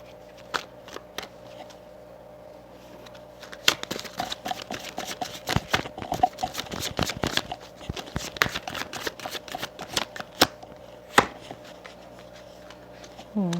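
Tarot cards are shuffled for a card reading: a quiet stretch, then a close run of rapid papery riffles and snaps lasting several seconds over a faint steady hum, with no speech.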